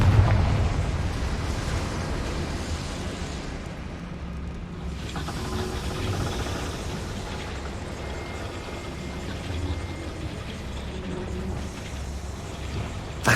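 A Confringo spell explodes in Hogwarts Legacy with a deep, rumbling burst that rolls on as a long, loud low roar with a brief dip midway, no voices over it.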